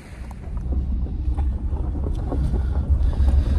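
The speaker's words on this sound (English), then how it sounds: "it's getting a bit windy now" Wind gusts steadily across a microphone at an outdoor camp spot during an overland trip in Scotland, a continuous low rumbling buffet that swells and grows stronger toward the end, with no talking.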